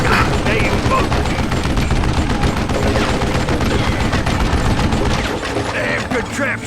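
Heavy gunfire in the Western shooter game Call of Juarez: Gunslinger, a dense, loud barrage of rapid shots and booms sustained for several seconds with voices shouting underneath.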